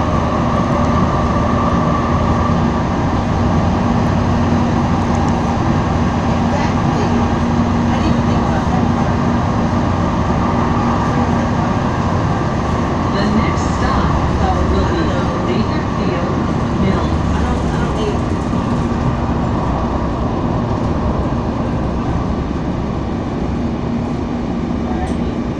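Gold Line light rail train riding from Folsom to Sacramento, heard from inside the car as a steady loud rumble and hum of wheels and motor throughout, with a faint squeal partway through and people talking over it.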